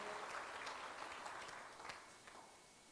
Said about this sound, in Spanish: Vamos a dar un aplauso fuerte a nuestro Padre.